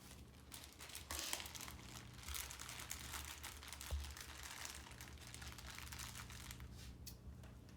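Crinkling and rustling of sterile medical supply packaging being opened up close for a wound dressing change, with soft tearing and crackling that continues steadily.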